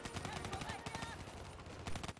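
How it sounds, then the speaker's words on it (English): Rapid automatic gunfire laying down cover fire in Call of Duty: Black Ops 3, dense bursts of shots repeating throughout, loud and close. "Give me some cover fire."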